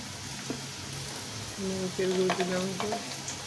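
A pan sizzles steadily as spice-coated shrimp fry, with a person speaking over it partway through.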